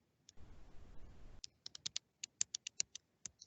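Close, quiet typing on a computer keyboard: a brief rustle, then a string of distinct crisp key clicks at an irregular pace in an otherwise silent room.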